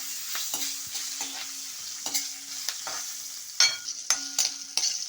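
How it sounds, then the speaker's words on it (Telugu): Green chillies fry slowly in a pan for a tomato and coriander chutney, with a steady close sizzle broken by several sharp stirring scrapes and clinks. No one speaks. "ఇప్పుడు ఈ పచ్చిమిరపకాయలు కూడా నిదానంగా వేయించుకోవాలి"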